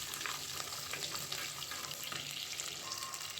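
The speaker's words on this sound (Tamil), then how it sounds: "இப்போ கொஞ்சமாக கருவேப்பிலை சேர்த்துக்கலாம். சேர்த்துட்டு அதையும் நல்லா வதக்கி விட்டுக்கலாம்." Curry leaves and garlic sautéing in a pan for a tamarind okra curry made with coconut milk, a steady close sizzle with scattered stirring scrapes and pops throughout, no voices.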